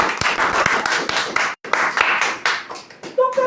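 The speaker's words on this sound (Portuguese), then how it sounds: "Aplaudindo para você cresce." A church congregation claps in dense, fast applause with sharp individual hand slaps, breaking off for a moment and then resuming before fading, with a voice heard briefly at the end.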